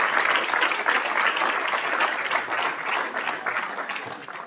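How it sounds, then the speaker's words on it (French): An audience at a conference applauds: dense, steady clapping from a large crowd that lasts about four seconds and fades slightly at the end. "Je voudrais qu'on t'applaudisse et qu'on te remercie également pour cette interview brillamment conduite."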